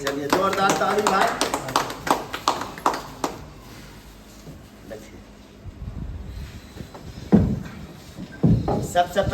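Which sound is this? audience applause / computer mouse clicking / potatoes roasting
audience applause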